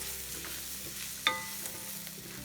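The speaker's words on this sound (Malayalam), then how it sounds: "നമുക്കിത് എന്നിട്ട് നല്ലോണം ഒന്ന് ഇളക്കാം." Gobi Manchurian gravy with Kashmiri chili powder being stirred in a pan, a soft scraping stir with low sizzling and one sharp utensil clink near the middle, no voices.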